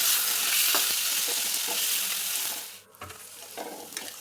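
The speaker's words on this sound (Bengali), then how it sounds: "আলুগুলি ভাজা হয়ে গেলে" Cut potatoes frying in hot oil in a pan for a Bengali fish curry, with a loud, steady sizzle and occasional stirring scrapes. The hiss drops away briefly near the end, then resumes more softly.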